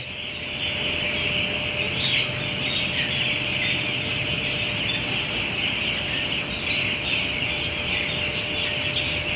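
Ten-day-old chickens on a poultry farm cluck and peep in a dense, continuous chorus, a steady crowded chirping that fills the space with no talking.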